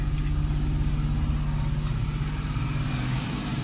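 A minivan engine idling just after starting, a steady low rumble with a constant hum, close and even throughout.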